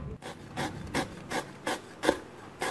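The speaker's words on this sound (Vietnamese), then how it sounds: "Còn lượng sả còn lại đem ra cắt lát mỏng luôn nha các bạn" A knife cuts lemongrass into thin slices, giving seven rhythmic raspy strokes spaced about every third of a second, close and fairly quiet, with no talking.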